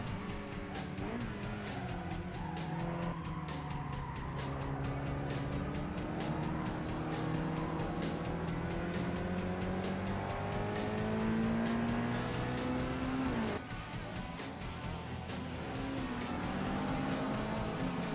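A new-model Honda S2000 laps Grand Valley Speedway in Assetto Corsa, its engine revving steadily through rising and falling gear pulls, loud and close throughout with tire noise underneath.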